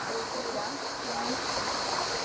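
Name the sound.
river water flowing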